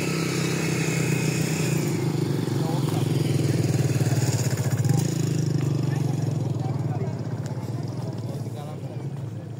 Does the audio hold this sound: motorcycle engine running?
yes